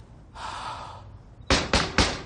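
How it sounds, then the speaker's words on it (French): Police knock hard on a door three times in quick succession, loud and close, after a muffled stretch of background sound. "Jay Tyler, ouvrez la porte, police!"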